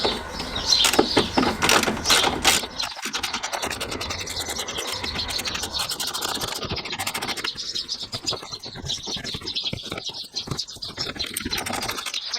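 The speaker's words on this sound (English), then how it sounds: "So old school, get a ratchet on it and undo it." A ratchet undoes a bolt on a Peugeot during a bush replacement, a close, rapid clicking and grinding that runs steadily for several seconds with metallic scraping throughout.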